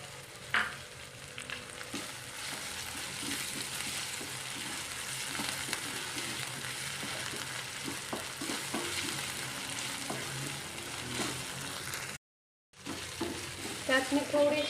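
Ginger garlic paste frying and being stirred in a dal tadka tempering, a steady broad sizzle with scraping stir strokes throughout, briefly cutting out near the end before resuming.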